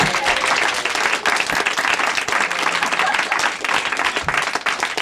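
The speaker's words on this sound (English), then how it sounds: "You can clap instead." An audience clapping at a live comedy show, dense and steady applause filling the room throughout, with a few scattered voices underneath.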